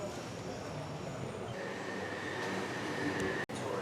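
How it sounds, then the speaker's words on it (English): A London passenger train, heard from inside as a steady, loud rumble with a faint high whine and no clear speech. "First train here in London."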